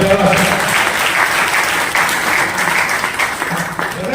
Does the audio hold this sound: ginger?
no